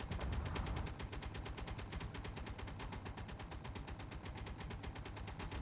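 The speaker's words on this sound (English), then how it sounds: "It's about to enter firing arc for all of these turrets here." Turrets in a Star Trek video game firing on a Borg cube: rapid, evenly spaced bursts of weapon fire rattle on without pause, loud and dense like machine-gun fire, with no talking.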